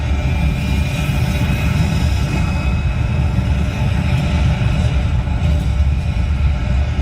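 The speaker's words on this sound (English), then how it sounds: "We have main engine start." A simulated rocket launch on the Mission Space ride at Epcot, Walt Disney World rumbles as a loud, steady, deep roar of engine noise that holds constant throughout, with no talking.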